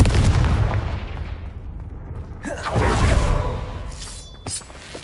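A Confringo fire spell bursts in the Hogwarts Legacy video game, a heavy rumbling boom with crackling debris that swells midway and ends with a sharper second blast, all fairly close and loud with no talk.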